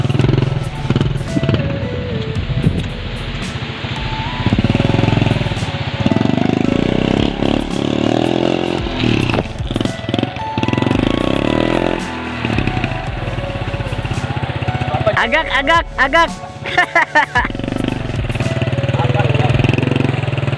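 A motorcycle engine runs close by, rumbling and revving unevenly throughout, with brief speech mixed in.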